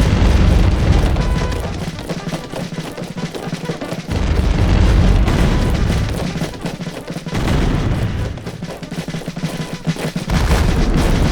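Howitzer and mortar artillery fire in a war strategy video game, repeated deep booming blasts in heavy rolling bursts with short lulls between, loud and continuous.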